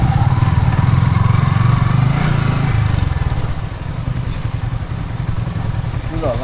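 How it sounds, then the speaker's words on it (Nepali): A motorcycle engine drones loudly nearby as it approaches, its steady hum easing slightly partway through, with people talking over it. "बाइक आइरहेको छ उताबाट बाइक आइरहेको छ"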